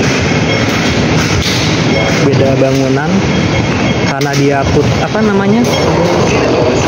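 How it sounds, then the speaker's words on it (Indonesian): An MRT metro train runs beneath a station building, a steady rumble with rail squeal tones rising and falling, close and loud, while people talk over it. "Ini kayaknya MRT. Jadi ada di bawah dia."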